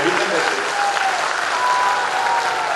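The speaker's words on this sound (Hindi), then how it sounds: "मैं चाहता हूं एक बार तालियां बजा के राहुल जी का स्वागत कीजिए।" Steady applause from a gathered crowd welcoming Rahul ji at a political event with the Chief Minister, continuous and fairly loud, with a faint voice or tone running underneath.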